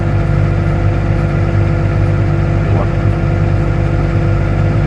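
A farm tractor engine idles steadily and loudly at close range during corn and bean replanting, a constant low rumble without pauses or changes in pace.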